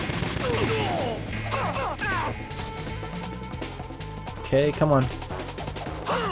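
Heavy shotgun blasts from SPAS-12 shotguns in Metal Gear Solid 2: Substance ring out repeatedly as loud, sharp bursts over game music and effects, with someone talking at moments in between.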